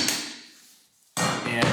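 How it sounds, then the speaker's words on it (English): A hammer strikes vinyl plank flooring to tap it into place, two sharp impacts separated by a brief quiet gap, close and loud with speech faintly around them. "and then I grabbed my hammer"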